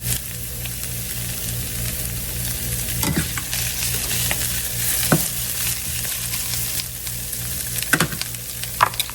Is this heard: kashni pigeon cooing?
no